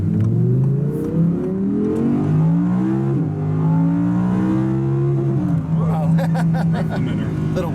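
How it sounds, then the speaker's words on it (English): Engine of a 2017 Audi R8 V10 revving up to the rev limiter, a loud, sustained climbing roar that rises repeatedly in pitch as the car pulls hard, with voices talking inside the cabin. "I hit the rev limiter."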